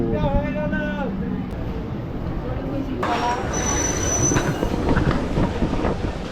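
A train rumbles and clatters as it rolls into Barrackpore railway station, wheels squealing and brakes whining near the end, with faint chatter in the background.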